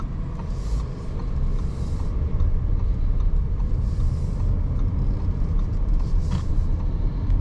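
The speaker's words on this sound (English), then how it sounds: "see how the V6 turbocharged V6 handles acceleration" A 2022 Audi A6 with a turbocharged V6 accelerates on a road, heard from inside as a steady low rumble of engine and road noise that builds slightly, with faint higher hiss bursts above.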